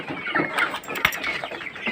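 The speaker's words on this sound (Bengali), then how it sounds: "এগুলো হচ্ছে টাইগার মুরগি" Tiger breed chickens clucking and chirping close by, several short overlapping calls with a sharp click in the middle.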